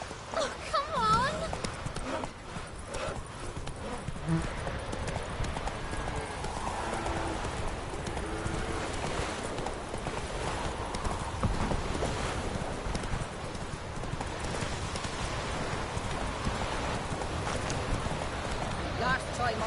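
Hooves of the horse Roach clip-clop steadily in The Witcher 3 video game, a continuous galloping rhythm under game music and wind, with voices talking over it.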